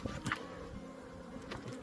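Honey bees buzz in an opened hive during a mid-winter check, a faint, close, steady drone with brief louder passes of individual bees.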